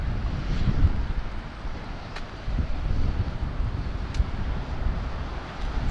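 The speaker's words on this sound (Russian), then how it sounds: "За ветер извиняюсь, он серьезный. Прям капюшон пытается сдуть." Strong wind buffeting a microphone in a city park in Novosibirsk, a steady low roaring rumble with gusty swells throughout, no voices.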